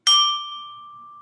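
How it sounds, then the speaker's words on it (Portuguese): A small meditation bell struck once, giving a bright clear ding that rings on with a long pure sustaining tone and slowly fades in a quiet room. "vou bater o sininho antes para não atrapalhar depois."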